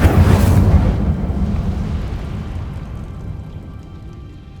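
Incendio fire spell cast in the video game Hogwarts Legacy: a loud whooshing burst of flame with a deep rumbling boom at the start, fading into a crackling, rumbling tail.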